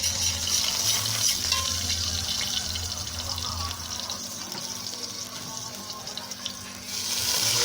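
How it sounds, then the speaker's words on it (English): Water runs steadily from a kitchen tap while rice is being prepared, a close, continuous hissing gush with faint clinks of cookware beneath it. "Pour the water."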